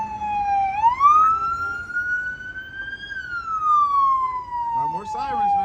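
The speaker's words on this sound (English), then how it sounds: "More sirens, man." A single emergency vehicle siren wails in slow rising and falling sweeps, loud and fairly close, with a person's voice briefly heard near the end.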